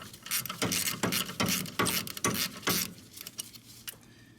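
A rear brake caliper bolt is worked loose on a Mercedes E350, heard as a run of sharp, evenly spaced ratcheting clicks close up, then a few looser metallic ticks and rattles as the rhythm breaks off.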